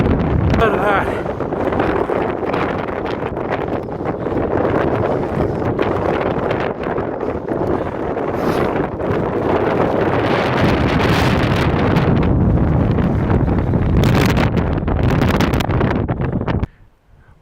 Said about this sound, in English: It's honestly so windy that the wind blew my microphone out of my camera.